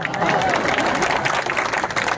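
Audience at a Hindi comic poetry gathering clapping to welcome a poet, a dense, even patter of many hands at moderate volume, with a voice faintly mixed in.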